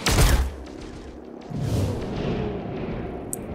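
A gunshot in XCOM Chimera Squad, one heavy booming blast at the start followed by a second rumbling impact and a lingering low roar, loud and close with no voices.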